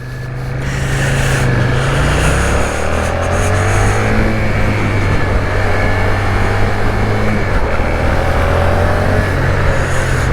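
A Suzuki SVF650 Gladius V-twin motorcycle rides along the road with a loud, steady engine drone and rushing wind noise. The sound runs continuously without a break for about ten seconds, and no voices are heard.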